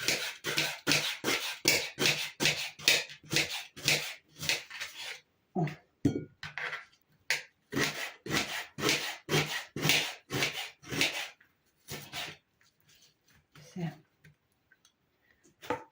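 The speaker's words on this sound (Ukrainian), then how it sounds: "оцю цибульку нам потрібно порізати на дрібні кубики" An onion is diced into small cubes with a knife, giving a run of rapid, evenly spaced chops close by, pausing briefly and then resuming before tapering off into a few scattered taps.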